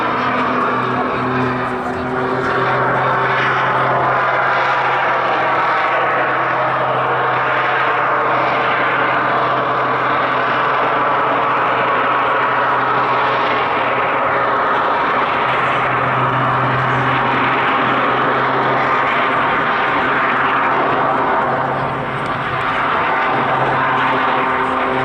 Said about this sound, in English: Uses the combination of the turbojet and the propeller, because he was using the torque from the propeller to get the aircraft to rotate around.